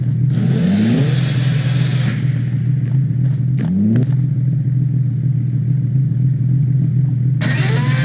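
A car engine revs in a French roleplay driving game, its pitch sweeping upward in two short bursts over a steady loud engine drone, with no talking.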